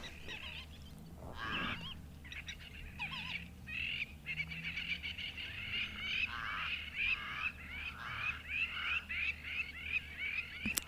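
Lapwings and crows call through a morning outdoors, a dense stream of overlapping, far-carrying cries that keeps going without a break and grows more rhythmic and insistent toward the end.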